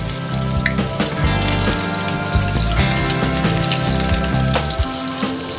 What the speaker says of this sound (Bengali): তো এইভাবে আমি বাকি যা যা চিকেন রয়েছে সেগুলোকে একইভাবে আমি এখানে ফ্রাই করে নিচ্ছি।